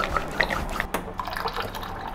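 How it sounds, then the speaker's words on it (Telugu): Half a glass of water goes into curd for a buttermilk curry (majjiga pulusu), giving faint, close drips and small liquid plops and trickles in a quiet kitchen, with no talk. "హాఫ్ గ్లాస్ వాటర్ వేసి మళ్ళీ కలిపా"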